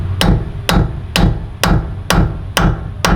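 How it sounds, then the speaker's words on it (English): Hammer repeatedly striking a steel chisel on an old farm truck, seven sharp metallic blows in a steady rhythm about half a second apart, loud and close with no talking. "Got the old hammer."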